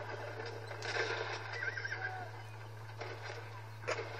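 A horse in the video game Red Dead Redemption whinnies in a shrill burst amid scattered hoof clops and faint in-game sounds, with a steady low hum underneath.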